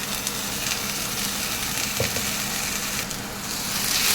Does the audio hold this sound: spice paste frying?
yes